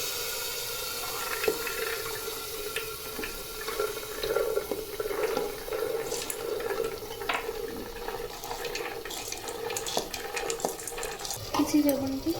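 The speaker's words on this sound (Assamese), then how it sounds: "এতিয়া ইয়াতে মাহখিনি দি দিব।" Mixed lentils tipped into hot spiced oil in a pan, giving a low continuous sizzle with scattered stirring clinks and scrapes throughout, fairly close and moderate in level.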